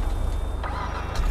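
Engine of a Rolls-Royce-style luxury car driven in GTA 5, a steady low rumble that holds throughout, close and moderately loud, with no talking.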